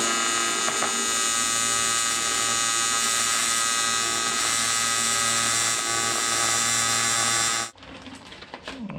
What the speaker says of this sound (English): I'm gonna start running beads on both sides here